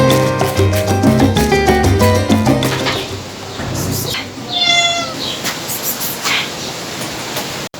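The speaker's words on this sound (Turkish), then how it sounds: "Kediler geldi" Cats meow repeatedly over a busy background of music and clatter, their cries rising and falling close by, loud throughout.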